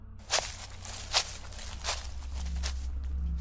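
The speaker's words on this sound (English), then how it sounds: "I started hearing footsteps disturbing the leaves behind us." Footsteps crunch through dry leaves in the woods at night, three or four separate crisp steps at an even walking pace, followed by a low rumble that grows louder toward the end.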